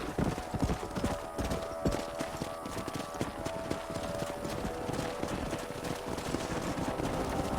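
Horse hooves in the video game Red Dead Redemption clip-clop steadily and continuously, several animals moving at a brisk pace with a busy, rumbling background.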